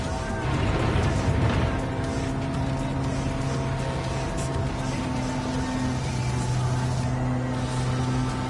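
A 2015 Mazda Demio XD Touring diesel engine running, a steady low drone with a faint tonal hum, heard from inside the car over several seconds with no talking.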